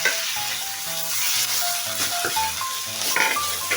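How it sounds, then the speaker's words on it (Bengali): Green beans fry in mustard oil with a loud, continuous bright hiss of sizzling throughout, while a voice talks faintly underneath. "আমি এবার এই সিমটা একটু ভাজি ভাজি করে নেব।"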